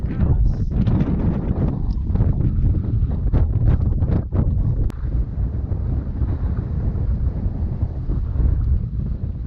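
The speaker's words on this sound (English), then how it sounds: "So now we were sailing with all the sails up" A sailboat under full sail crossing the English Channel, with strong wind roaring across the microphone and water rushing along the hull, a continuous loud wash with a few sharp knocks.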